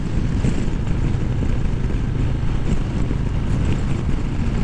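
Steady engine rumble of a Harley-Davidson motorcycle on the road on a fine day, heavily buffeted by constant wind noise across the microphone, loud and unbroken with no talking.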